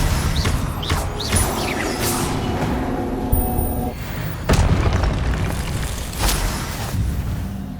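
Confringo fire spells explode in the video game Hogwarts Legacy, a series of punchy booms and whooshing magical bursts layered over busy battle effects.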